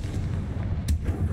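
A Confringo fire spell explodes in the Hogwarts Legacy video game, landing as a short, loud burst over a steady rumbling game backdrop, with a sharp crack near the end.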